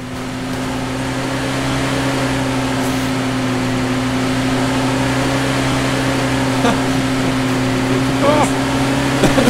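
A car in a VR driving game gives off a steady, droning engine hum that swells slightly, with voices talking over it throughout.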